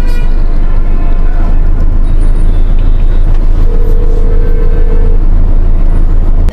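Heavy road traffic rumbles loud and close, a dense continuous low drone of engines with a brief tonal hum midway, no pauses and no voices.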